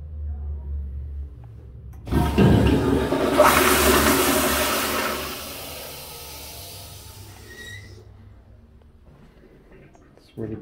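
A toilet in a renovated men's restroom of an old Koreatown building flushes loudly. There is a sudden rushing surge that slowly fades into a refilling trickle, and a clunk comes at the end.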